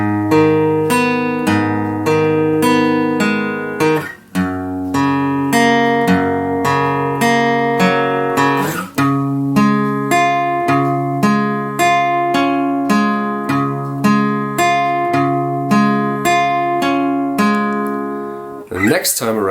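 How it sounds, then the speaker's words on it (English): Acoustic guitar slowly picking the intro pattern of a song, single plucked notes in a steady repeating rhythm with brief pauses between phrases, clear and close, no talking over it. "So altogether, the first part of the picking pattern sounds like this."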